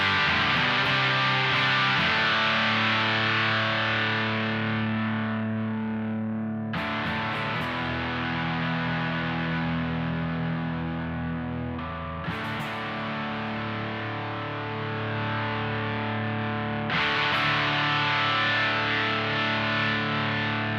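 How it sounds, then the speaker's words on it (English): Electric guitar driven through a ProCo Rat distortion pedal at high gain, its filter control swept as four loud, sustained distorted chords ring out in turn, each one followed by a sharp re-attack. "I'm going to just dial this filter control around so you can hear what it sounds like at the higher gain."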